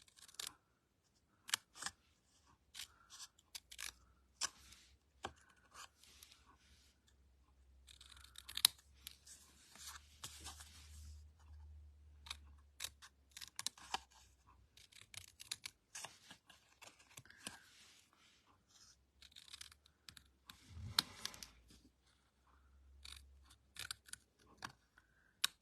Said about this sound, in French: on va découper les carrés 1 et 3 en languettes pour finir notre socle